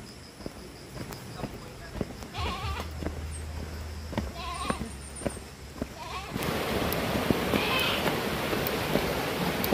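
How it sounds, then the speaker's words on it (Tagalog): A pet goat bleats several times in short wavering calls, fairly close, with a low hum and rustling behind and a rising noisy wash toward the end. "Alagang kambing."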